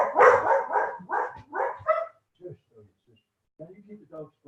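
Dogs barking during a presentation, a burst of several loud rough barks in quick succession followed by fainter, softer yips and whimpers.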